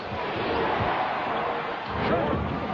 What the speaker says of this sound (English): You can see the crowd reacting.